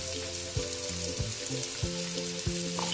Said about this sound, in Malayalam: ചെറുതായി നോക്കിയിട്ട് ഉള്ളി ഇടുക